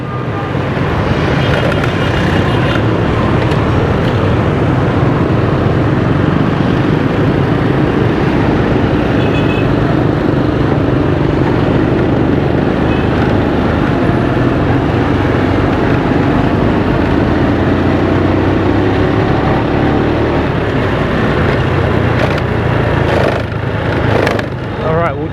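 Continuous loud roar of a motorbike riding through dense, chaotic street traffic in Hanoi's Tay Ho district near West Lake, with engine drone, wind and surrounding vehicles blending into a steady wash of noise.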